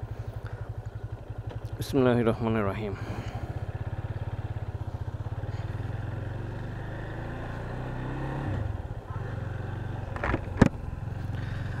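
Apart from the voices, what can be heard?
Yamaha FZ25 motorcycle engine and exhaust starting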